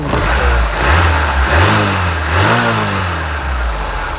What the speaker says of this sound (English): the engine runs really sweet